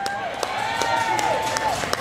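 A live concert audience at a show whoops and cheers for a singer, with occasional distinct handclaps popping through a sustained crowd roar.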